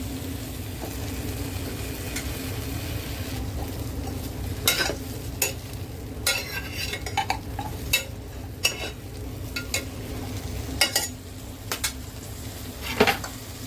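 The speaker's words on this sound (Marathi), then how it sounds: "बटर मेल्ट झाले तर हे आपण शेंगा टाकूया त्याच्यात मक्के टाकूया" Beans and corn sautéing in melted butter, a low steady sizzle broken by repeated scraping clinks of a spoon stirring against the pan, close and without talk.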